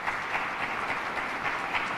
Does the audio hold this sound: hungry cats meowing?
no